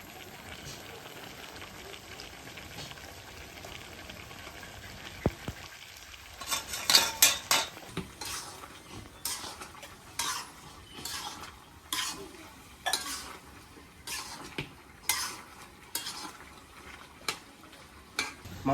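Goat meat being sautéed in a pot at an outdoor village cooking spot, with a steady low sizzle and a run of repeated scraping, clattering stirring strokes at an irregular rhythm, fairly close.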